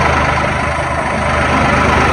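A tractor's engine idles steadily near a deep muddy pit, a continuous low rumble that holds at a fairly loud, even level throughout with no voices over it.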